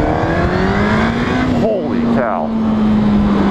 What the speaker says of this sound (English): Oh, this is such a powerful engine, man.